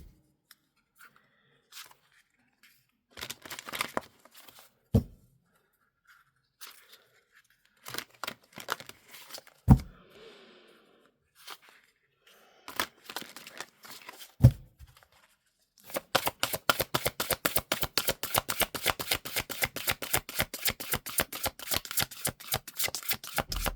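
Oracle cards are handled and shuffled close by, first as scattered flicks and slides, then as a long, fast, rhythmic run of riffling snaps that goes on to the end.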